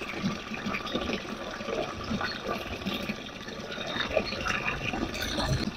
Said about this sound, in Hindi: तो जी अभी दोबारा भैंस पी रही है, ये एक ही दफा में बहुत सारा पानी पी लेती है।